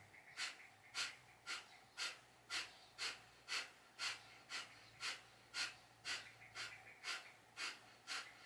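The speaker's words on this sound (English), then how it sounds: "Have an inhale, fill the belly. Exhale, pump the belly." Kapalabhati yoga breathing, with quick forceful exhales pumped from the belly, about fifteen evenly spaced sharp nasal puffs at a steady rhythm, close and fairly quiet.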